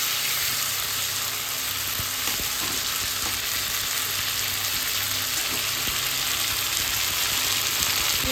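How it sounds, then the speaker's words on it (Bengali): Chicken pieces fry in hot oil in a home kitchen, giving a constant, close, bright sizzle with a few faint clicks and stirring knocks underneath. "চিকেনটা একটু ফ্রাই করে নেব।"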